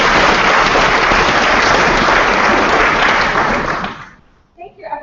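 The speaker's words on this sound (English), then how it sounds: "Let's give her a round of applause." Loud, sustained applause from a large student crowd at a Model UN opening ceremony, holding strong for about four seconds before fading out, followed by a few voices.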